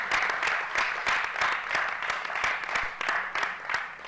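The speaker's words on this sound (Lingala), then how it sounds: "Vous allez applaudir pour le jeune qui a porté sa guitare." A crowd applauds a young guitarist at a comedy show, steady dense clapping from many hands filling the whole stretch with rhythmic swells, loud and close.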